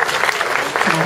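An audience at an ensemble concert in Seoul applauds, a dense burst of clapping that fills the brief moment from start to end, with some speech mixed in.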